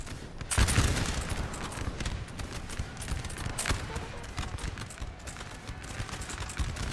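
Musket volley fire in a Napoleon Total War battle: a dense, continuous crackle of distant massed musketry with a sharp burst near the start, rolling on steadily with a busy battlefield murmur.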